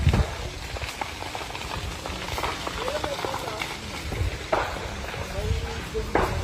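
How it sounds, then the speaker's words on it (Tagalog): A wildfire burns through bamboo, giving a continuous crackling, popping roar with occasional louder snaps while someone speaks over it. "Nakikita natin, may wildfire dito. Puros kawayan ang nandito."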